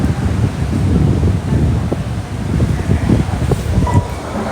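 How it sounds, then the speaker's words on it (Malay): Strong wind blowing hard across the microphone, a loud continuous rumbling roar with rustling gusts and no talk. "Kuat betul angin dia, kuat betul."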